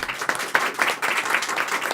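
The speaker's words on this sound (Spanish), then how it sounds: "Un aplauso para Félix, por favor." Applause for comics artist Félix Vega at a panel talk, a short burst of steady clapping from a seated audience, fairly close and without voices.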